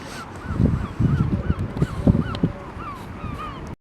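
Geese honk repeatedly in a lively, overlapping chorus by the pier at Blackpool North, some calls close and loud, others farther off, with no talking.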